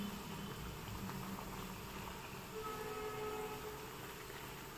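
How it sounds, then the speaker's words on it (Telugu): Vadas deep-fry in hot oil toward golden brown, producing a steady, even bubbling hiss that stays fairly constant and moderately quiet throughout. "ఇది గోల్డెన్ బ్రౌన్ వచ్చే వరకు బాగా ఫ్రై చేసుకోవాలి."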